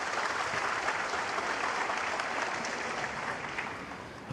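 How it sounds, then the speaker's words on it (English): A snooker crowd at the Shanghai Masters semi-final applauds a frame ball with steady, dense clapping that holds throughout and eases slightly toward the end. "Applause for frame ball."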